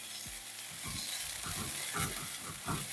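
Ground masala sizzles in a pan of beef vindaloo while a spoon stirs it in repeated scraping strokes. The frying is close but fairly quiet, with no voices.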